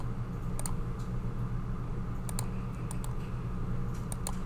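Computer mouse clicking while parts are labeled in a CAD assembly, a few sharp, quiet clicks in small clusters over a faint steady background hum.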